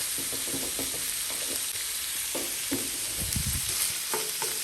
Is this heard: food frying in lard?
yes